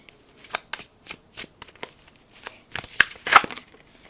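A tarot card deck shuffled up close in quick, uneven bursts of riffling and slapping cards, with short pauses between. No one speaks.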